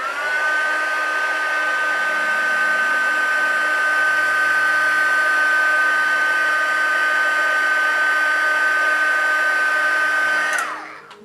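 A heat tool blows steadily for about ten seconds to heat-set freshly sponged-on shading paint, a loud, even whirring hiss with a constant whine that cuts off abruptly at the end.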